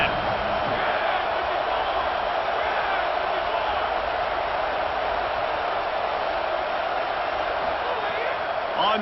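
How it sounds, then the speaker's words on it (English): A football stadium crowd at an NCAA Texas vs LSU game roars steadily and loudly throughout, a dense, unbroken wall of voices with no distinct breaks. "The roar of the crowd trying to fuel this defense to keep them pinned in their own end."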